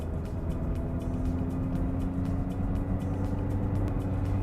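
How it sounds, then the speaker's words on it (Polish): A Peugeot 3008 accelerates hard from 60 to 90 km/h with a steady engine drone heard from inside the cabin, mixed with road and wind noise, and no voices. "Teraz jeszcze sprawdzę jego elastyczność, czyli przyspieszanie od 60 do 90 km na godzinę."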